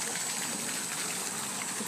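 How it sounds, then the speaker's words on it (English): A miniature waterfall pours in a steady, loud, close rushing gush with no pauses and no voices. "Check out this miniature waterfall, guys."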